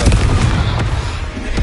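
A Confringo explosive spell blast from Hogwarts Legacy, heard as loud booming bursts with a dense low rumble, sharp hits near the start, middle and end.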